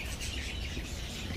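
Small caged birds offered for sale at a flea market chirp steadily in a bright, busy twitter, set against a constant low market hum with no clear voices.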